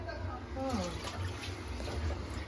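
Water poured over fish during rinsing runs as a continuous trickle and splash, with a person talking over it.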